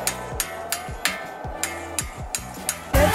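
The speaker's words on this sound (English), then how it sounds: "So to remove these 2 pins, I'm going to use a punch right here using a hammer." A hammer strikes a steel punch to drive out the brake caliper pins on a Nissan GT-R, about nine sharp metallic taps in a steady rhythm, close up and loud.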